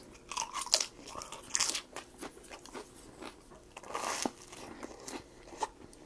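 Bread eaten with mayonnaise spread over it, crunched and chewed in a string of crisp close bites with small pauses between them and no talking.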